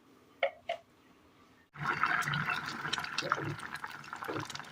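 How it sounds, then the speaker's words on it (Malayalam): Water is poured into a Kerala curry paste, then the paste is ground. A couple of brief splashes come first, followed by a sudden, continuous whirring grind that runs to the end. "ഇനി ഇതിലേക്ക് ഒരല്പം വെള്ളം ഒഴിച്ച് നന്നായി ഒന്ന് അരച്ചെടുക്കാം."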